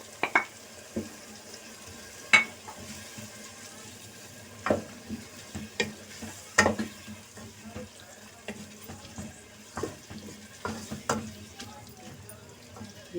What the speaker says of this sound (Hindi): और अब हम अपना चिकन डाल देंगे इसके अंदर।